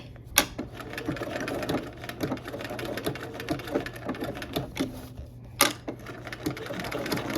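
A sewing machine stitches fabric in short, quiet, uneven runs with clicks and taps between them, alongside a low steady hum.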